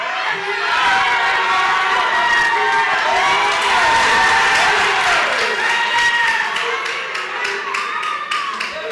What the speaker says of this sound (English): Our next contestant, a round of applause for Kudus.